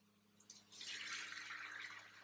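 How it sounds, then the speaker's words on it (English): Pasta being drained into a food-truck sink gives a close, steady rush of pouring water that starts after a brief dribble and keeps running without speech. "I'm going to sneak through here and drain my pasta in the sink"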